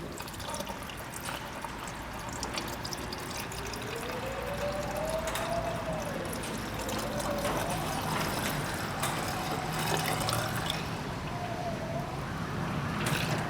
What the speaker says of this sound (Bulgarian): Така че доливаме, допълваме с ниско замръзваща течност.